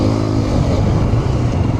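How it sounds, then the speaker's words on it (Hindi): Hero Xpulse 210 motorcycle being ridden off-road, its engine droning loud and close with constant rumble and clatter, mixed with wind noise and no talk. "हाँ ये बाइक तो यहाँ पे भी बढ़िया चल रही है"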